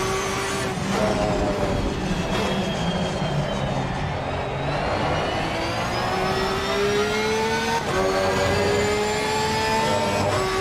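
A racing car engine in a racing video game revs steadily and loudly, its pitch rising and falling through gear changes across several laps of continuous drone.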